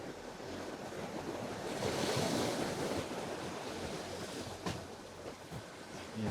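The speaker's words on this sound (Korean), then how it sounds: "벌써 파도 소리가 아주 청량하게 들리는데요" Waves rolling over the round pebbles of a mongdol beach on the southeast coast of Korea, a broad continuous wash that rises to a peak and eases off, with gusts of wind noise and no talking.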